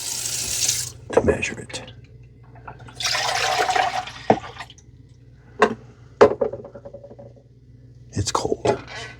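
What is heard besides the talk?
dirty water being emptied from robot mop tank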